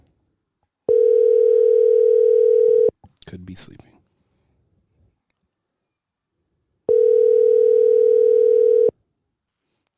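A phone call's ringback tone sounds in two loud, steady two-second bursts, with a brief voice speaking in the gap between them and silence afterward.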